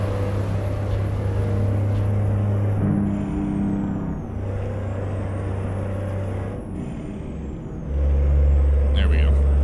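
Peterbilt 388 wrecker/rotator truck in American Truck Simulator, its engine droning steadily with gear changes, then revving louder near the end, a short hiss at the close, heard close up from inside the cab.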